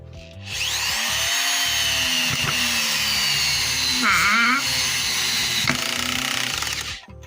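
Corded Intertool WT-0110 electric screwdriver on its first speed setting drives a 65 mm screw into wood, a steady loud motor whine holding for about six seconds with a brief strain midway before stopping.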